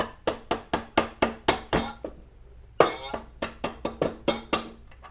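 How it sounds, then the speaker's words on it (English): A soft-tip hammer taps a part out of a Suzuki GSXR motorcycle wheel with sharp, ringing metallic knocks in a quick rhythm, a brief pause, then another fast series, close and loud. "So I'm going to tap that out with my hammer."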